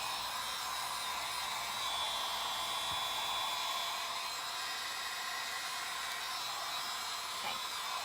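A hair dryer blows steadily while drying paint before sanding, producing a constant, close airy whir with a high whine that holds level throughout.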